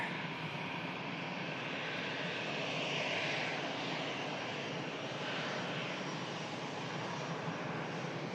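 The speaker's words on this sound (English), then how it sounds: "It's the Eurowings A320, and this is probably the last arrival." Eurowings Airbus A320 jet taxiing after landing at Manchester Airport, a steady broadband engine roar that holds fairly constant and moderately close with no clear talk over it.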